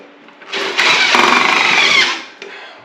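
A power drill drives self-tapping screws into a decorative plate on a chimney pipe, with one loud, steady whirring burst of about a second and a half that spins up and winds down.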